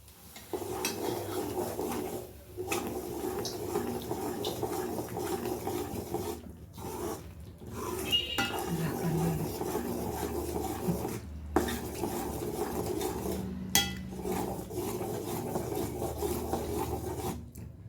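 Thick Mysore pak mixture of gram flour, ghee and oil being stirred and scraped in a pan, a steady rasping, rubbing sound with brief pauses, close and continuous throughout.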